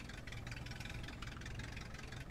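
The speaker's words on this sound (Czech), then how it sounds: "Vole, jak to zní ten traktor, ty vole." A tractor engine in Farming Simulator 22 drones steadily at a constant idle-like pitch, a continuous mid-low rumble with a faint knocking texture, heard alone at moderate volume.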